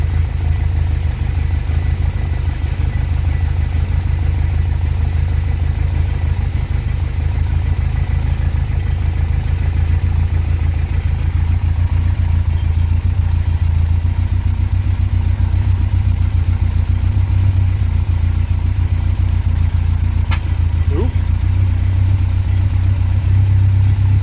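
A Talbot Horizon car fitted with motorcycle carburettors idles nearby, a loud, steady, unbroken engine drone for the whole stretch.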